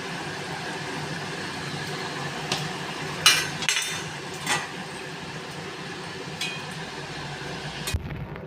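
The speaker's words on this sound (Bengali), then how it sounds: "আমার ঝোলটা ফুটে এসেছে এখন মাছটা দিয়ে দিচ্ছি এক এক করে মাছ দিয়ে দিচ্ছি" Pomfret fish pieces placed one by one into a simmering mustard and poppy seed curry in a pan: a low, steady bubbling hiss broken by a few soft splashes and utensil clinks, with no talk.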